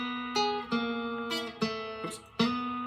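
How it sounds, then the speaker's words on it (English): An electric guitar plays a blues intro lick, a short phrase of plucked, ringing notes with clear sustained tones and crisp attacks, played alone and fairly quiet. "you have a nice little blues intro lick"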